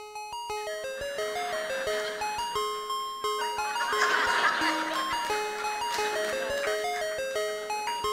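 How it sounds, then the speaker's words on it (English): An ice cream truck plays its tinkling chime melody, a bright repeating music-box tune that stays steady and fairly clear throughout, with faint background murmur beneath it. "That is the sound of the ice cream truck."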